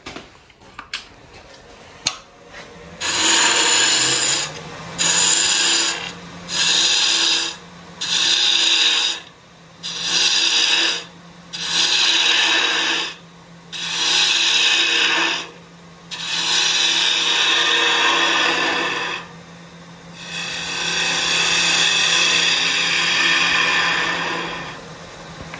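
A wooden shimmer top spins on a lathe while a 3/8 bowl gouge with a roughly 40 degree grind shapes its tip, giving repeated loud scraping, hissing cuts separated by brief pauses over the steady hum of the lathe motor.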